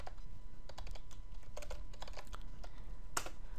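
Typing on a computer keyboard while entering Java code, a quick run of crisp clicks in irregular bursts with a sharper cluster of keystrokes near the end, close and clear with no talking.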